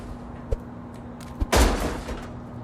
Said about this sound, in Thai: เกมนี้อุ้ยถังน้ำมันระเบิดตุ้ม